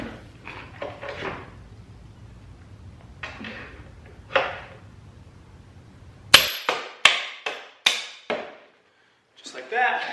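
A mallet drives a bolt through a ski binding spindle on a Switchback Assault build with MTNside offset spindles, giving several sharp, loud metallic knocks in quick succession, preceded by quieter handling noise and a voice.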